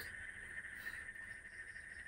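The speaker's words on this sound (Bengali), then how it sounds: "ঝিঝি পোকার ডাক শুনতে পাচ্ছেন?" Crickets chirp at night outside a house in a remote village, a faint, steady, high-pitched trill that runs unbroken for the whole stretch.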